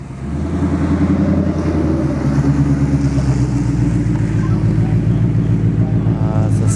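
A Ford Mustang S550 5.0 and a Dodge Scat Pack 1320 roar at a dragstrip test-and-tune night, a loud sustained engine drone rising in pitch, captured from nearby with crowd ambience.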